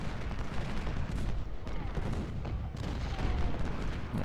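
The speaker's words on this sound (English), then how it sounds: "A weird angle of fire for Arnold's brigade." Brigade volley fire in the Ultimate General: Civil War strategy game, a continuous crackle of musketry and distant booms forming a dense battlefield din at steady loudness, with no talk.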